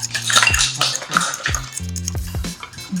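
A fork whips and stirs dalgona coffee in a cup, with rapid clinks and scrapes against the side in an uneven rhythm, close and fairly loud, alongside low tonal background sounds.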